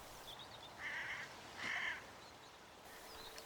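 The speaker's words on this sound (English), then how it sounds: "the crow had actually landed into a nearby tree and not onto the ground" A crow in a tree gives two harsh caws about a second apart, moderately distant over quiet outdoor background noise.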